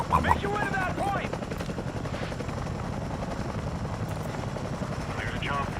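A little bird helicopter's rotor thrums in a steady, close pulse throughout, with shouted radio voices over it and faint gunfire in the background.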